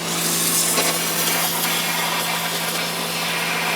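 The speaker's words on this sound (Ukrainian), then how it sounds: "давайте попробуємо, чи буде різати доску. Роблю максимальну струю." Stanley SXPW25CDSS pressure washer on maximum jet, blasting against a wooden board; a loud, steady hiss and spray with a constant motor hum underneath, continuous throughout with no speech.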